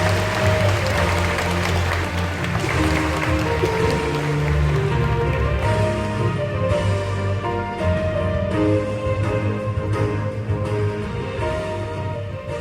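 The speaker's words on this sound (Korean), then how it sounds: "큰 박수로 맞이해 주시기 바랍니다" An audience at a high school admissions information session applauds to welcome the vice principal, a steady dense clapping that holds evenly throughout with a faint sustained tonal hum beneath.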